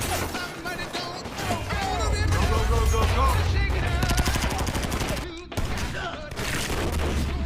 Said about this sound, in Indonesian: langsung menembaki mereka